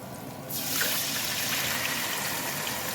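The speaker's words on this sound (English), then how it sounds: "The oil is ready already. Pour this in." Cooking oil being poured into a pot while making okra soup, a steady liquid trickle and splash that begins after a short quiet moment and runs on evenly to the end.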